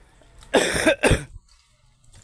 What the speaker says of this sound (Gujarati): તો થોડીક ઉધરસ આપણે થઈ ગઈ છે